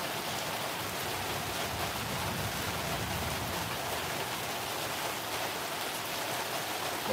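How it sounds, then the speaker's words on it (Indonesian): Steady rain pours down in Cilacap, Indonesia, a dense, even hiss of drops on surfaces that holds constant throughout with no voices. "Ternyata di Cilacap lagi hujan."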